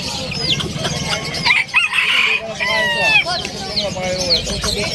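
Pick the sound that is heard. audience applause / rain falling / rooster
rooster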